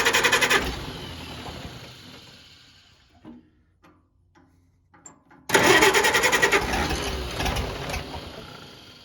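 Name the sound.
Farmall BN tractor engine starting and running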